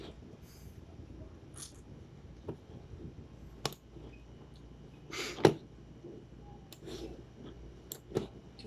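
Scissors snip a few times, sharp and scattered with pauses between cuts, against a quiet room with light handling noises.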